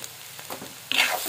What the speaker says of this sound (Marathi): तर बारीक गॅसवर भाजी शिजते व्यवस्थित.